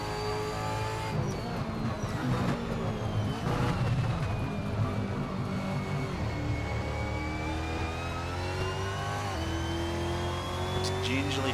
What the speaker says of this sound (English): Just gingerly feathering the throttle,